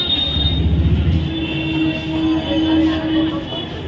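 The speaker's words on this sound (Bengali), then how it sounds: "আমাদের ট্রেন ঢুকছে" A train pulls into a station with its wheels squealing loudly over a heavy, continuous rumble of rolling stock close by.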